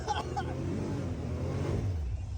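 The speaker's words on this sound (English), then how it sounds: "Dude, you literally did a burnout." Can-Am side-by-side spinning its tires in a burnout on a wooded trail, a steady loud engine roar and low rumble filling the whole stretch with brief voices near the start.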